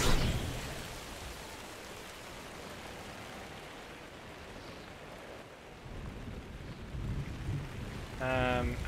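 Steady rain hiss with a low rumbling storm underneath in Minecraft: Story Mode, continuous and enveloping, with a brief sharper sound near the end.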